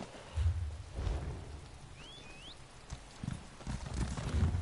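Elk mount's hooves clip-clopping at a trot in the video game Elder Scrolls Online, steady rhythmic thuds close by, with rain and a faint distant rumble underneath.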